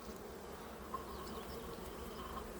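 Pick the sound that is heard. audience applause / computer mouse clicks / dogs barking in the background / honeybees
honeybees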